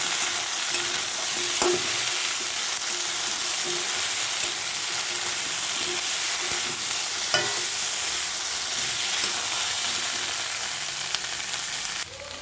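Soya chunks fry in a pan with a continuous, even sizzle, while occasional scrapes and knocks of stirring break through the hiss.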